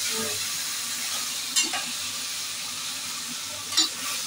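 Carrot and bean pieces for a vegetable pulao fry in a pan with a steady, close sizzle, and two short scraping clinks of stirring break through.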